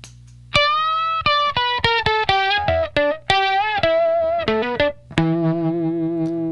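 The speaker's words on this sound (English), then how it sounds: "With the first octave turned on the Johnny Octave, it sounds like this." An electric guitar runs through a Zvex Johnny Octave pedal with the first octave engaged, giving a thick, slightly distorted tone to a quick phrase of plucked notes that ends on a ringing sustained note.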